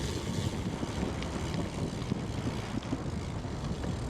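Strong wind buffets a fog-covered mountain summit in Slovakia, a loud steady roar of gusting air across the whole stretch with no voices.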